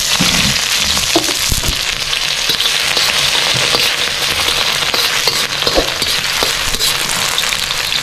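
Onions fry in hot oil for pork ribs, a loud, steady close sizzle with scattered crackles and pops throughout.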